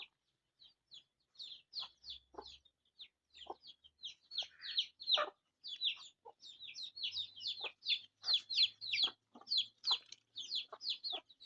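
Chickens, alongside ducks kept at a family home, clucking and calling in rapid, repeated bursts that grow busier and louder over time, close and clear against a quiet background.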